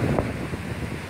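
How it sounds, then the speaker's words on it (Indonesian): Strong sea wind buffets the microphone on a beach lined with leaning pine trees, a steady loud rumbling roar with gusts and no voices. "miring karena kena angin laut yang banter banget"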